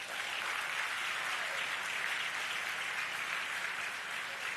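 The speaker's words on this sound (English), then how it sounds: "I think that deserves a round of applause, y'all." A dense, steady round of applause from an audience honoring a news broadcaster, many hands clapping evenly at moderate volume for several seconds without a pause.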